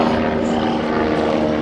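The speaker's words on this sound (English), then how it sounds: "a helicopter flew overhead" A helicopter passing overhead, its rotor and engine producing a loud, steady droning hum with a strong low tone throughout, close and uninterrupted, with no talking.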